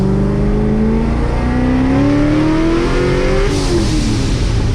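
A supercharged C6 Corvette running E85 fuel accelerates hard from up close, its engine note climbing steadily in pitch through the gears with a brief shift dip near the end, loud and alone.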